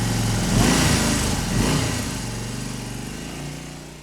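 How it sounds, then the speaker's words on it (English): A motorcycle speeds along a neighbourhood street, its engine note loud and close at first with two rising surges, then fading gradually as it moves away. "In the street, a motorcycle sped fast."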